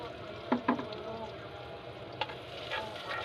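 Garlic fries in a home cooking pan for lugaw, giving a soft continuous sizzle with a few sharp clinks of a utensil stirring against the pan, close and fairly quiet.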